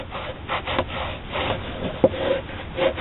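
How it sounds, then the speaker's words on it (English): A rag rubs finish onto a damp dyed leather sheath, close rhythmic swishing strokes with soft friction and a few light taps, no voices. "I just coat a rag with it, And while the leather is still a little damp from the dye,"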